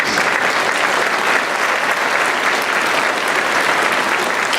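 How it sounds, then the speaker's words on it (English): Sustained, dense applause from an audience at a Blue Ribbon award ceremony rolls on evenly throughout, with no talking over it. "Round of applause."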